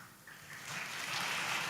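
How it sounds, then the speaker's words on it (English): An audience claps for a presenter at a lecture session. The applause swells steadily from a light patter into a fuller, dense wash of clapping, with no talking over it. "Give applause to him."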